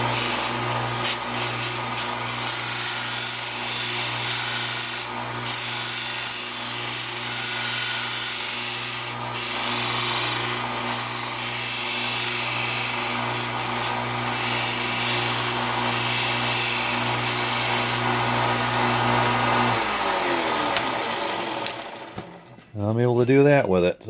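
A Harbor Freight 1x30 inch belt sander runs steadily with a loud, continuous motor whine and belt rub, then winds down near the end into a brief clatter.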